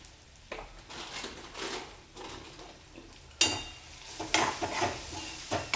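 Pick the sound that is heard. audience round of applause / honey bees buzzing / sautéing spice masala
sautéing spice masala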